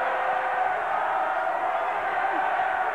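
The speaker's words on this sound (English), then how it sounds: "The crowd just showing it's paying attention." Steady murmur and low roar of a basketball arena crowd at a 1990 East Tennessee State versus Marshall game, a dense, even wash of many voices with no sharp peaks across the whole stretch.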